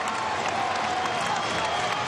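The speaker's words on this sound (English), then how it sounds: "And this crowd, a sellout crowd." Sellout basketball crowd at a 2007 VCU versus ODU game applauding and cheering steadily, a dense, loud wash of clapping and crowd noise filling the arena.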